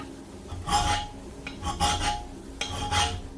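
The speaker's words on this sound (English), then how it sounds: "use a metal file to clean up and smooth out the edges of the cut" A metal file rasps along the rough edges of a notch cut in a steel chef's knife blade held in a vise, in three steady strokes, close and fairly loud.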